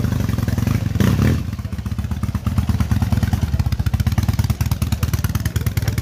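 An old motorcycle engine runs at a bike show, loud and close, with a steady rapid pulsing idle and a brief rougher burst near the start.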